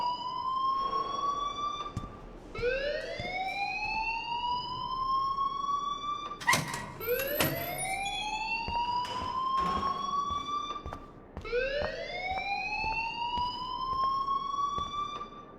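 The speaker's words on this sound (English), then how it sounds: "please turn off that alarm since that's your job" Alarm in the video game Life Is Strange, a rising wailing siren repeating in long sweeps of about four seconds each, loud and continuous with brief clatter in the middle.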